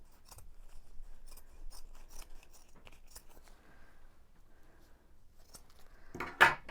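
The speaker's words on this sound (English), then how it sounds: "I'm just cutting up the edge where the buttons are" Scissors snip through satin wedding-dress fabric in short, crisp cuts with quiet pauses between, ending in a louder metallic snap close by.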